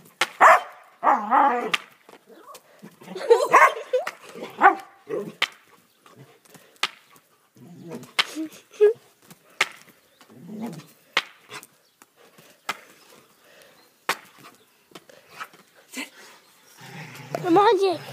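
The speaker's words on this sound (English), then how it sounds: "That's why Border Collies are the smartest dogs." A Border Collie sheep dog barks in sharp, scattered bursts across a long stretch outdoors while someone talks and gives commands between the barks.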